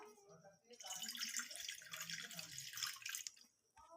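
Water pours into a pan set on a gas stove, a steady hissing splash that lasts about three seconds before stopping, quiet and close, with faint low background noise.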